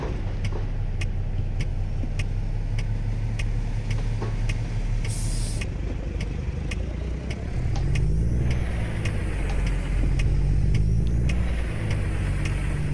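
Kenworth W900 truck engine in American Truck Simulator, a steady low diesel drone with a faint regular ticking and a slight rise in revs toward the end, no talk.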